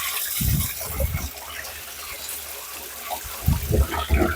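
Water gushes from an opened valve into a tank being filled for mixing fertilizer with a venturi drench system, a steady close rush with a few heavier low surges.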